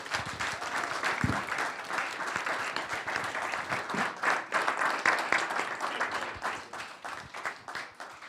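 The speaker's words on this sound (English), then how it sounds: "Big round of applause." A room at a town council meeting breaks into sustained applause. Many hands clap densely and evenly from start to finish, and the sound stays steady at a moderate volume with no voices over it.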